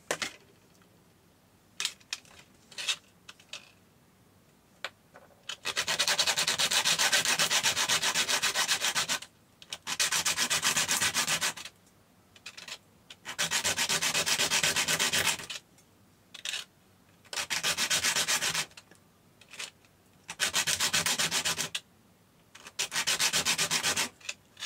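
Handmade jewelry piece being sanded by hand in bursts of steady rubbing, about six sustained passes separated by short pauses with faint handling clicks, close and fairly loud with no talking.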